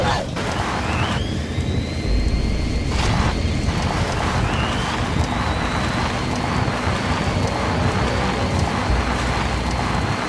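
Helicopter arriving for extraction in Metal Gear Solid 5, a loud, steady rotor and engine roar filling the whole stretch, with a thin turbine whine rising through it.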